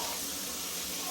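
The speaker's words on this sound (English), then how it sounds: "Got a little water going there. Go ahead and put my foot in here and do a little scrub." Tap water runs as a foot is scrubbed beneath it, a soft steady hiss with a faint splash, quiet and unbroken for about a second.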